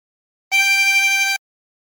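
A lone tremolo harmonica note, blown into hole 13 of a 24-hole instrument, rings bright and slightly wavering for nearly a second, starting and ending cleanly with silence on either side.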